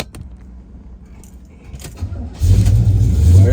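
A 1971 Chevrolet Chevelle, a southern car, starting up: keys jangle and click at first, then the engine catches and settles into a loud, close, steady rumble.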